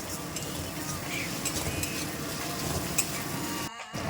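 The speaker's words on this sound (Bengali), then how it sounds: "আদা রসুনের পেস্টটা দিয়ে একে একটু ভালো মতন ভাবে কষাতে হবে" Ginger-garlic paste sautéed in a pan for a Bengali hilsa fish curry with taro, giving a steady close sizzle with a spoon scraping and stirring, broken by a brief pause near the end.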